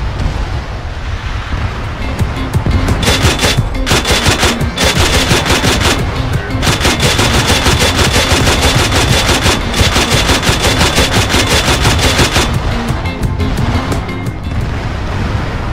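A Mark 19 grenade launcher in Arma 3 pounds a tree line in long sustained bursts of rapid, loud, closely spaced thuds, with brief pauses between strings of fire and a windy rumble underneath.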